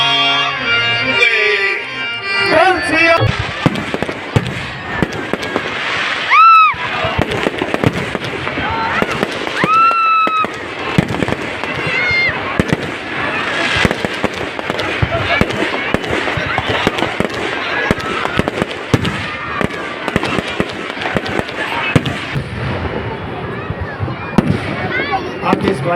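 Fireworks at a Ravana effigy burning festival, with loud, dense bursts and crackling firecrackers going off continuously and close by. Whistling rockets rise between the bangs, and crowd voices sound underneath throughout.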